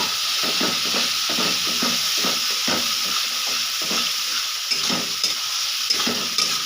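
Masala with ginger paste and tomato fries hard in a pan, a loud continuous sizzle broken by rhythmic scraping strokes of a spatula. No one talks.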